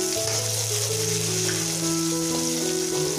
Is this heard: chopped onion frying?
yes